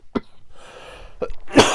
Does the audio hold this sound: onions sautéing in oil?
no